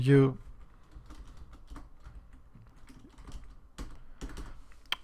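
Computer keyboard typing during a weapon modification setup tutorial for the game TPS Beta v2: scattered quick keystroke clicks through the span, a louder thump at the start, moderate and close.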